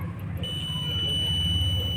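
A multimeter's continuity beep sounds while testing the ground wire of a car's AC circuit, a steady high electronic tone holding from about a quarter of the way in to the end, close and fairly loud over a low background hum.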